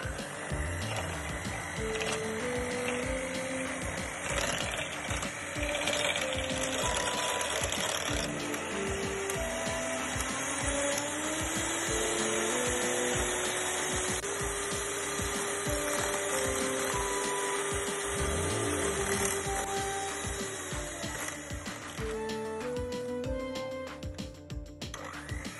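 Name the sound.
electric mixer whisking heavy cream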